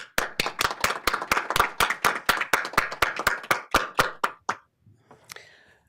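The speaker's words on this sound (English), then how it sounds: "Could we just give a round of applause for all of the donations" A brief burst of hand clapping at a board of education meeting, about fifteen sharp regular claps from a small group, close by, tapering off into a few scattered claps and quiet.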